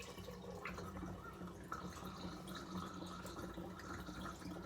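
Hot water just off the boil is poured onto honey for Hungarian-style mead, a quiet continuous trickle and splash with small drips, close and low in level.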